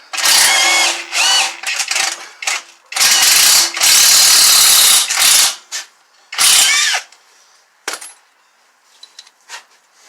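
Ratcheting wrench and air tool bursts loosening the lower bolts on a 2007 Ford Explorer wheel bearing assembly, loud clustered rattling runs separated by pauses, ending in quieter clicks.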